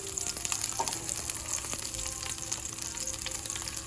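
Dried ingredients dropped into hot oil for a mint pachadi tempering, crackling and sizzling steadily at close range with small pops throughout and no talk.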